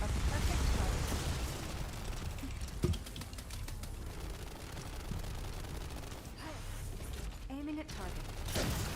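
Rapid gunfire bursts from the shooter video game The First Descendant, a steady crackling barrage with sharper shots breaking through, running throughout under busy game effects and a voice.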